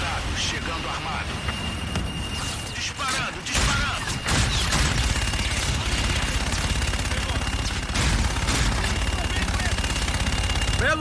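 Rapid bursts of automatic gunfire in the video game Call of Duty Infinite crackle almost nonstop with heavy booms mixed in, and voices talk over the shooting.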